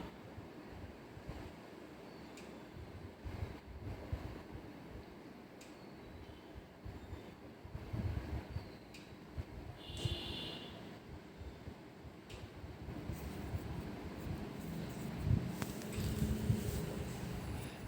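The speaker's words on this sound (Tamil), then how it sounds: "நல்லா கொதிக்குதுங்க" Ground pearl millet boils in a pot of water, giving a steady, rumbling bubble and hiss that runs continuously, with a brief higher clink partway through.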